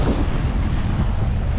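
River water breaking over submerged rocks during a rafting ride at Naran makes a steady, loud rush with heavy wind buffeting the microphone and no distinct splashes.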